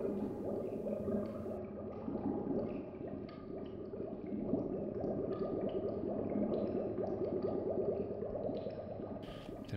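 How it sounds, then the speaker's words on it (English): Continuous bubbling and gurgling water in the game realMyst, made by blowing bubbles in a toilet, a close, steady churn of burbles and drips throughout. "Blowing bubbles in the toilet."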